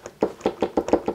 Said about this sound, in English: It will comes out some really loud plastic sound.